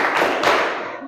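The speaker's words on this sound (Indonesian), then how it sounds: "sore 3 kali tepuk" A group of people clapping together in a classroom-style counting game, a quick cluster of claps blending into one dense burst that fades over about a second.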